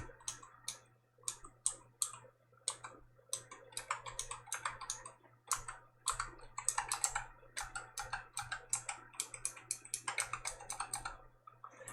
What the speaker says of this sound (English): I'm a mechanical keyboard enjoyer.